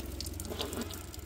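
A village water spout sends out a faint, steady trickle of running water with light splashing and drip-like spatters, heard quietly from a short distance.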